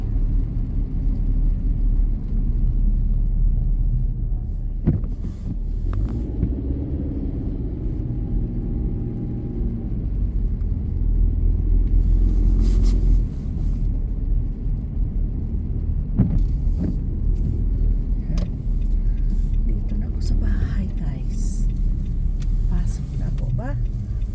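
A car drives along a dark road on a rainy night in Montreal, its engine and tires giving a steady low rumble throughout, with someone talking and laughing over it and a few clicks and bumps.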